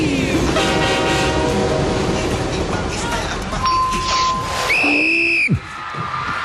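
An MRT commuter train pulls into a station, its wheels and carriage rumbling loudly up close, with sustained tonal squeals and whines of braking, rising tones and a final clunk as it comes to a stop.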